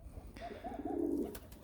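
Pigeons coo softly nearby, a short rolling call rising and falling, with faint background hum and no talking.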